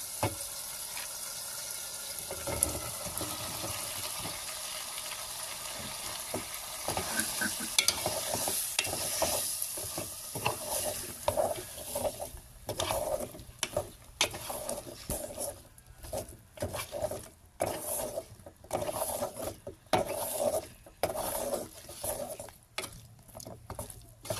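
Bottle gourd and spices being stirred in a pan, a steady sizzle under repeated clattering strokes of a spoon that grow sharper and more broken toward the end.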